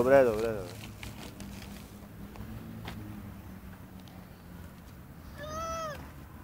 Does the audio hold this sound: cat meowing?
yes